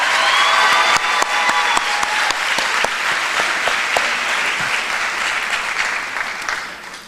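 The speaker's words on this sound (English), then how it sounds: "Can we give Rayshina once again a round of applause?" Audience at a school graduation ceremony clapping, a dense burst of applause from a large crowd that holds steady and then begins to fade toward the end.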